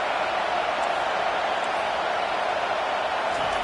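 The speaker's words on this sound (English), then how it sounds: "This crowd bringing the energy and noise early." A football stadium crowd makes a constant, loud, wash-like roar with no breaks, filling the whole space evenly from start to finish.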